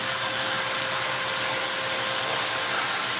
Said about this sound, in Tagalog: Sira na yung vacuum mo.